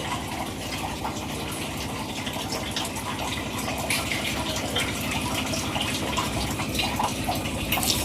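Water gushes in a steady stream as it is poured into a ground spice mixture for a homemade sambar, a continuous close splashing flow that grows slightly fuller toward the end.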